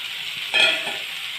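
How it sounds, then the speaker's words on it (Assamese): Moringa drumsticks and potatoes go into hot oil in a pan for a drumstick curry, giving a short burst of sizzling with a stirring scrape over a steady frying hiss, close and fairly loud. "চজিনা আৰু আলু দিম।"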